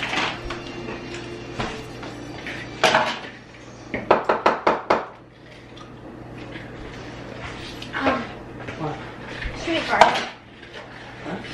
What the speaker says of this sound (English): I gotta wash these dishes real quick.